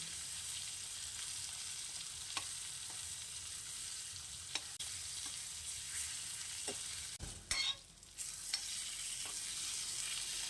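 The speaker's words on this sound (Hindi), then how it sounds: "अब तक हमारा तेल गर्म हो चुका है तो हम डाल देते हैं। इसे अलट पलट करके हम लोग तल लेंगे।" Stuffed bitter gourd (karela) fries in hot oil with a constant hissing sizzle, a few faint taps, and a brief louder burst of spattering partway through as pieces are turned.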